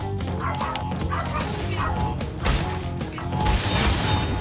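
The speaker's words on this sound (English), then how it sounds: "And now my dog is barking because the bell rung" A house dog barks repeatedly at a doorbell, loud and close, with sharp yips mixed in over a background of mechanical clicking and game sounds.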